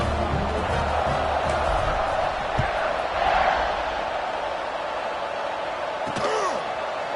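A stadium crowd buzzes in the College Football 25 video game, a broad continuous roar of many voices at steady loudness, with a few thuds and a brief swell partway through and an announcer talking over it.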